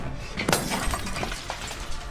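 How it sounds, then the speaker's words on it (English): An emergency light tube is smashed, its glass bursting in one sharp, loud shatter, then a few scattered tinkling fragments over a steady dim room background. "So they smashed that emergency light too."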